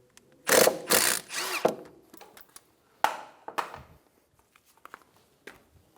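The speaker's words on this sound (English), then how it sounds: "Using an 11 millimeter, take the union bolt out of the old caliper." An 11 mm ratchet loosens the brake-line union bolt on the old front caliper of a 2013–2017 Honda Accord, giving loud close mechanical bursts early on, then sharper clicks and scattered fainter ticks with no talk.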